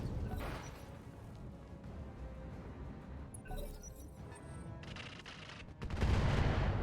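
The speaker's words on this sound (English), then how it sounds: "There's a barrage incoming over here, of course." Artillery barrage pounding away in the mech combat game RogueTech, a dense run of rumbling blasts and crackling gunfire that swells louder toward the end.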